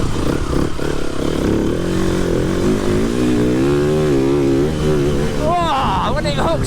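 TM 300 four-stroke motorcycle ridden round a wet track, its engine revving and rising in pitch through the gears close by, ending in a sharp high rev as it pulls away.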